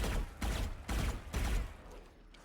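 Bursts of rifle gunfire from a tactical shooter, four short heavy volleys in steady rhythm, loud and close, then fading to quiet.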